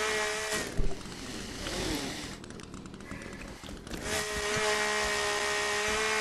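A chainsaw in the survival video game The Forest buzzes with a steady, high-pitched whine that revs and briefly drops off midway before resuming, loud and continuous.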